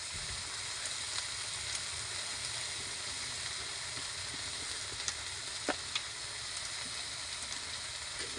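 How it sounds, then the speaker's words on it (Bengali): Steady, faint sizzling of mustard flowers frying in a pan, a soft continuous hiss with a few small crackles and pops. "শুশুর ফুলটা ভাজা শুশুর ফুলটা ভেজে বাটবো"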